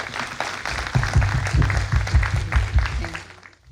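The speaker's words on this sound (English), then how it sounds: "So please give her a big round of applause." An audience at an evening ceremony claps loudly and continuously for a few seconds before the applause fades out.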